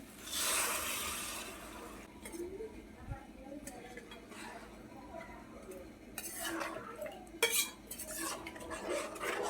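Tamarind water poured and stirred into a metal pan for a curry, with clinks of utensils against the pot and some soft talking around the cooking noises.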